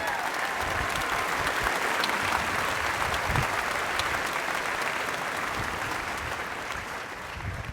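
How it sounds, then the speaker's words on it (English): An audience at an Army event at Fort Benning applauds drill sergeants, a loud, sustained burst of clapping from a large crowd that fills the whole stretch and fades slightly at the end. "Give him a round of applause."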